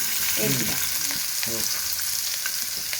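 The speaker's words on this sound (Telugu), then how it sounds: "ఇవన్నీ కొంచెం నూనె లేసి కొంచెం దూరగా ఫ్రై చేయాలండి" Onion, carrot, cabbage and other vegetables fry in about a spoonful of oil, giving a steady, close sizzle throughout, broken by a few scraping stirs of a spoon in the pan.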